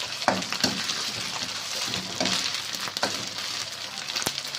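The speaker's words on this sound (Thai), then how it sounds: "เราจะเอาหมูเข้าลงผัดนะจ๊ะ" Minced pork stir-fries with curry paste in a pan for a Thai dish with khi hut vegetable, giving a steady sizzle broken by scraping stirs and clinks of the utensil, close and continuous.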